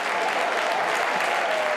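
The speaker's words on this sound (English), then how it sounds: "Warm applause for Aaron Pierre" Football crowd applauding at an AFC Wimbledon vs Swindon Town match, with steady, dense clapping from a large stadium audience filling the whole moment at a constant level.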